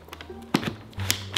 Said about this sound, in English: That is the keyboard key.